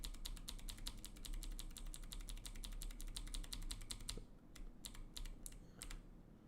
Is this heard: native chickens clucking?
no